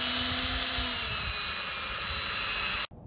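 A 3M 39008 headlight restoration kit attachment on a drill polishing a car headlight, a steady high-pitched whirring motor drone with broadband grinding noise that runs continuously for nearly three seconds, then cuts off abruptly.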